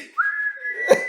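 A short voiced whistle imitating a deflating sound, one steady tone about a second long ending in a breathy puff, close and clear with no other talking.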